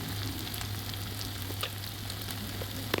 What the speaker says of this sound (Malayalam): കുറച്ച് കറിവേപ്പിലയും കൂടി നമുക്ക് ചേർത്ത് കൊടുക്കാം